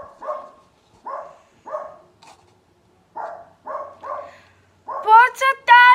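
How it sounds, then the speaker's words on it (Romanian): Dog barking in repeated short, evenly spaced barks close by, followed by louder, higher yelping or whining barks at the end, with no talk over it. "Poți să taci un pic, mai câinele!"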